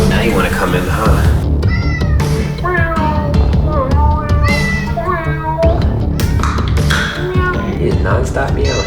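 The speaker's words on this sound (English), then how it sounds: "Non-stop meowing." An abandoned kitten meows non-stop, loud and close, in a quick run of repeated rising and falling cries. Several overlap, and a voice talks at the same time.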